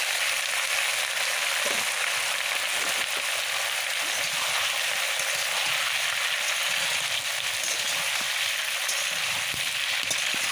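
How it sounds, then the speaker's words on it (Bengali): Potatoes and cauliflower sizzling with browned onions in a hot pan, a steady, dense hiss of frying that carries on unbroken and fairly close, with faint clinks now and then. "এখন আমি ধুয়ে রাখা আলু ফুলকপি দিয়ে দেব।"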